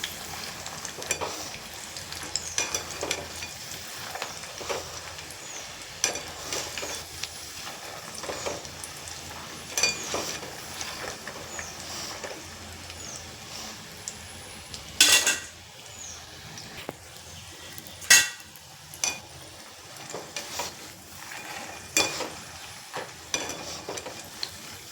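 Masala-coated peanuts frying in a pan while being stirred, a low sizzle broken by repeated scraping and clinks of a utensil against the pan, with a few louder knocks, no speech.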